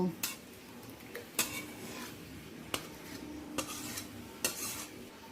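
Chholar dal, a Bengali chana dal dish with garam masala, stirred and scraped in a pot, with clinks of the spoon against metal recurring every second or so over a low, steady sizzle.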